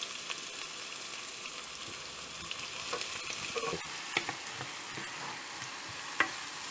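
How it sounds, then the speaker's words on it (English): Chopped onions fry in about six tablespoons of oil on the stove for beef vindaloo, giving a steady, close sizzle with a few soft clicks and stirring scrapes and no voices. "Add the chopped onions and fry them till they become light brown."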